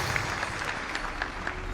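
Audience applause at a speech, steady light clapping from a crowd at moderate distance, brief and even, with no voices over it.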